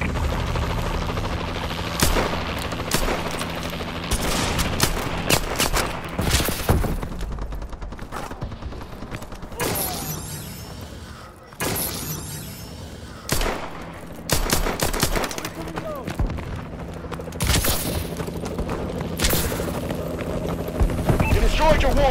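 A Warbird scorestreak aircraft in a shooter video game fires its guns in long, loud, rattling bursts. A whirring aircraft drone sits underneath, with short gaps and sharp impacts between the volleys.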